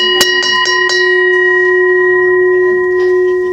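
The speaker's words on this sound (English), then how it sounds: "And when I ring the bell" A small bell rung by hand to call for silence in a mindfulness class: a few quick metallic strikes, then one clear tone that rings on loud and sustained, fading slowly.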